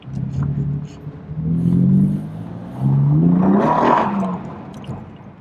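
A BMW M4 pulling away with a twitchy, jerky throttle, its engine note surging and easing in two rising pushes, loud and close from inside the cabin.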